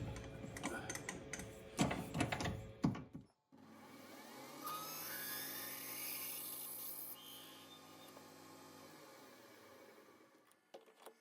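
A letter N drill bit, just under 5/16 inch, bores a hole in a gear hub workpiece on a lathe for a six-cycle oddball engine. A steady, fairly loud grinding whir runs for about seven seconds after a few short clattering knocks.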